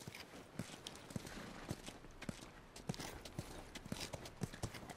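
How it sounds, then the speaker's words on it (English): Horse hooves clip-clop at a steady walking pace in The Last of Us video game, with regular, crisp strikes that are fairly faint and heard alone without talk. "You guys have horses."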